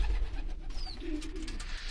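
Pigeons in a loft with squabs and eggs, giving a soft low coo amid faint rustling background, fairly quiet and close.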